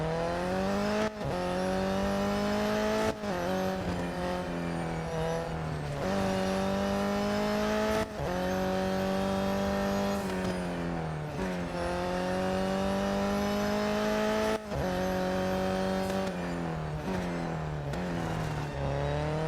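Race car engine in the mobile racing game Real Racing 3 driving a time-trial lap, a loud continuous harmonic whine rising through the revs with sharp drops at each gear change, alone without talk.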